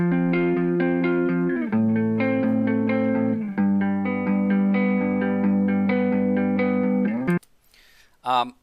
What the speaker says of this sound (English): So currently we have a guitar line in here.